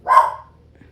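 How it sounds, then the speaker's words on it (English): A single sharp bark from a household dog, close and fairly loud, fading quickly into a quiet indoor room with no talking. "stopping for the dog to bark"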